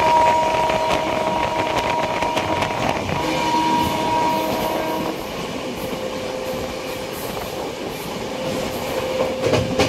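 A train at Sealdah railway station in Kolkata gives a steady, loud rumble and rolling rail clatter that carries on throughout, with no talk.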